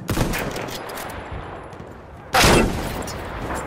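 Gunfire in the video game Battlefield 1: a rattle of shots opens, then a sharp, loud blast hits midway and fades into a lingering roar of battle noise.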